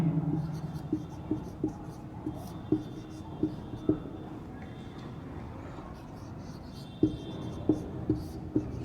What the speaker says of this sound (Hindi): इसकी पहचान हम लिखते हैं यहाँ पे